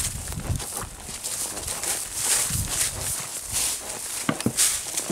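Hooves of several horses clopping irregularly on a dirt trail at a walk, with rustling and outdoor background noise.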